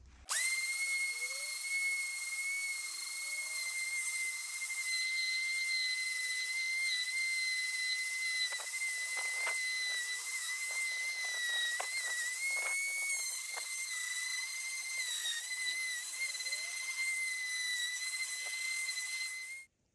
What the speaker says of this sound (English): I'm going to sand it with the 80 grit on the random orbital sander to clean up all of this remaining black paint